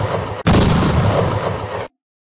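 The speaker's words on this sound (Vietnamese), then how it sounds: "Hai tiếng nổ tiếp theo" Two explosion blasts in a war scene with tanks: a short burst, a brief gap, then a longer, very loud booming roar that cuts off abruptly.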